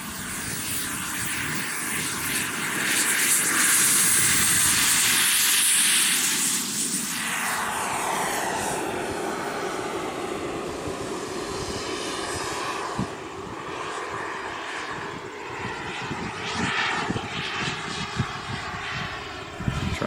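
A 1/5-scale BVM F-86 radio-controlled model jet, about 15.6, makes its turbine roar loud and close at an RC airfield, swelling as it passes with a sweeping doppler shift around seven seconds, then holding a steady whine.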